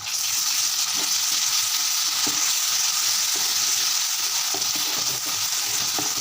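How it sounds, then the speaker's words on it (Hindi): Onions fry with a spoonful of garlic-ginger paste in a pan for a chana dal fry, a steady dense sizzle with occasional stirring scrapes, loud and continuous without any talk. "तो भी मैं 2 से 3 मिनट के लिए अच्छे से भून लूँगी"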